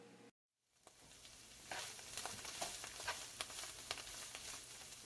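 Diced Cantonese sausage sizzles and crackles as it is stir-fried in a wok with white pepper, the steady frying hiss punctuated by sharp spatula scrapes and taps after a brief quiet gap.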